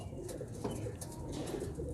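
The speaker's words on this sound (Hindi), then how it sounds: "इस वक्त जो मेरे हाथ में कबूतर मौजूद है ये एक फ़ीमेल है" Female high-flyer pigeon cooing softly through a steady low background, the coos faint and continuous over about two seconds with no talk.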